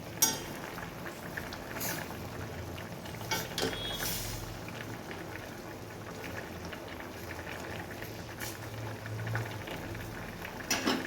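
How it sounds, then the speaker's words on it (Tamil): Paarai fish curry simmers in a pot, giving a steady, soft bubbling hiss with occasional faint clinks and no talking. "பாருங்கள், நல்லா மீன் வேகுதுங்க. நல்லா வேக வைக்கணுங்க மீன்."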